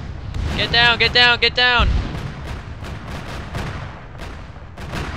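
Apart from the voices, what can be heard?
rocket explosions in military video game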